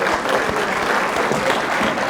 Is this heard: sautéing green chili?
no